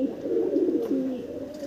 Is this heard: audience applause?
no